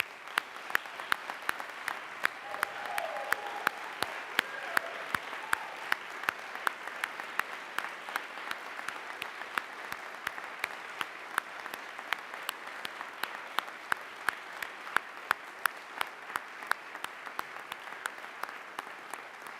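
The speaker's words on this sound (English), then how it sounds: "Please join me in a round of applause." An audience at an Army ROTC commissioning ceremony breaks into sustained applause, a dense even patter of many hands clapping in a large room that holds steady throughout, with no voices on top.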